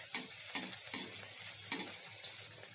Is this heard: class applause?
no